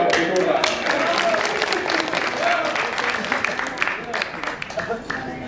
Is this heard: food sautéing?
no